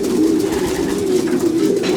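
Racing pigeons coo steadily inside a loft, a dense, continuous low murmur of overlapping calls close by with no talking.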